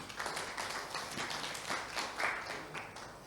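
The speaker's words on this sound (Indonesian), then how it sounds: "Tepuk tangan buat Tuhan Yesus." Church congregation at a Sunday service clapping together, a steady wash of applause from many hands throughout, fairly quiet and slightly distant.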